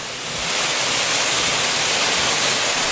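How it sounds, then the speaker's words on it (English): A waterfall pours in a steady, dense rush of white noise, loud and constant with no other sounds. "right next to where I'm camping, there is this quite nice waterfall"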